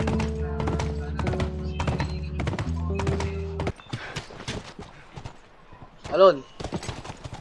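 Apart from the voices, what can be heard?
horse hooves clip-clopping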